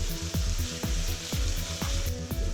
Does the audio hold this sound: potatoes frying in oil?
yes